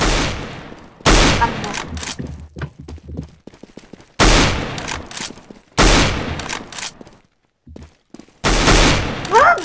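Gunfire in a no-scope sniper video game match: loud, sharp shots burst out in separated clusters, each followed by a decaying echo, with short quiet gaps between them.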